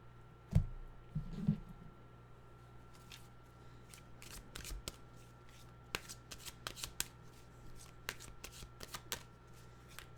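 A deck of animal oracle cards is shuffled by hand, with soft riffles and a series of crisp card flicks and taps at close range in a quiet room, a few louder bumps near the start.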